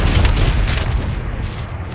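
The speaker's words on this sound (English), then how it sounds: "Friendly bombing run incoming." A bombing run explosion in Call of Duty: Advanced Warfare, heard as a loud, deep boom that rolls on and fades over about two seconds, with no talking.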